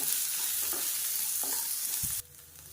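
Chilli, garlic, tamarind and onion sautéing in a pan for chutney, a steady close sizzle with scattered scraping stirs that cuts off abruptly near the end, leaving quieter hiss.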